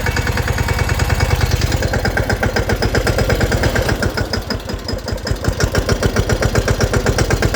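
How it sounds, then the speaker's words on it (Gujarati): A Sonalika mini tractor engine running nearby, loud and steady with a fast, even chugging pulse throughout and no one speaking. "આ ટ્રેક્ટર કઈ રીતના હાલે, કેવું કામ કરે."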